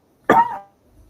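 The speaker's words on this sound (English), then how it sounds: "line dancing is making me cough now" A single short, sharp cough, close by, quickly fading into quiet.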